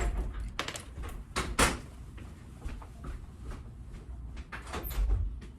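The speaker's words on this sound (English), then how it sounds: "someone's knocking on the door." A door opens with a few soft knocks and handling clatters, fairly quiet and close in an indoor room, with no voices.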